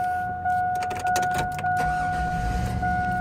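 A 2002 Cadillac Escalade with a 6.0 engine being started, a key clicking and a steady electronic chime ringing as the engine catches into a low rumble, close up.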